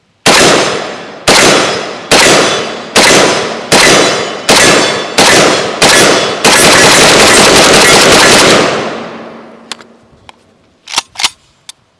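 A WBP Jack AK-47 rifle fitted with a Blastphemy muzzle device fires loud, close shots. About eight single rounds come at a steady pace, followed by a sustained rapid burst. The sound then fades into a few faint clicks.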